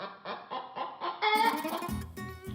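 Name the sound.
chicken clucking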